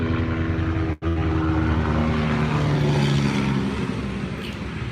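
Steady, dense rumble of Los Angeles road traffic with engines droning continuously, broken by one brief dropout near the start.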